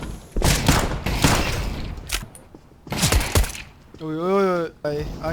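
Rapid bursts of gunfire from the video game CS:GO, several volleys close together over about three seconds, followed by a short vocal sound and voices.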